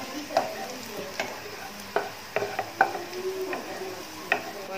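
Onions frying in a pan for a bean and potato curry, with a steady sizzle broken by sharp scraping stir strokes at an uneven pace, close by and fairly quiet.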